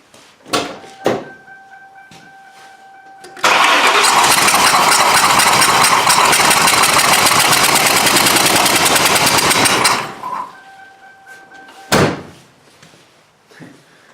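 A 1997 Mercury Grand Marquis V8 with the airflow sensor unhooked and three cylinders missing cranks, catches and runs loud and rough for about six seconds before shutting off, with a few thunks before and after.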